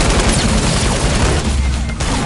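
Rapid bursts of gunfire from a Fortnite match, loud and dense, running continuously across the short stretch with booming low-end impacts.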